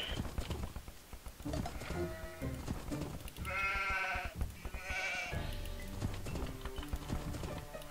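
Sheep bleat in Age of Empires II HD, heard as a couple of short wavering calls amid a busy game soundscape of clip-clopping hooves and low unit noise, with no speech.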